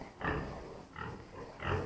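Pigs, sows and young gilts on a farm, grunt in three low, rough bursts spaced roughly evenly, fairly close, over steady background noise and without speech.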